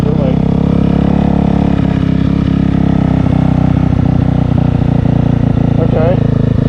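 A Honda CBR250 motorcycle engine drones loudly and steadily while the bike is ridden, with wind rumble throughout and a voice speaking over it.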